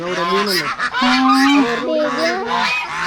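Ducks and ducklings honking and quacking loudly, several calls overlapping in a steady, close-by chorus.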